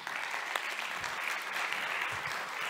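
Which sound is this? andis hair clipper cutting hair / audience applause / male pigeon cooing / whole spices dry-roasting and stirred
audience applause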